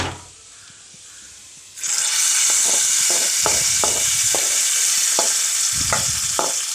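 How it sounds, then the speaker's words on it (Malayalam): Liquid poured into a hot, sizzling curry of jackfruit seeds, mango and drumstick, producing a sudden loud hissing sizzle that holds steady, with repeated stirring and scraping clinks underneath. "അപ്പോൾ നമ്മൾ കറിക്കകത്തോട്ട് ഒഴിച്ച് കൊടുക്കുന്നു"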